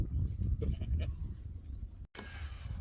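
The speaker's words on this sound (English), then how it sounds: "First sheep of 2023 going on Swedes." A flock of sheep moves outdoors into a new paddock of swedes, with scattered bleats over a steady low rumble of wind and movement, cut by a short break.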